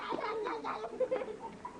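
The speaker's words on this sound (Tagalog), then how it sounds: "Meow." A short, close meow with a wavering, drawn-out tone, sounding like a cat calling out once or twice in quick succession.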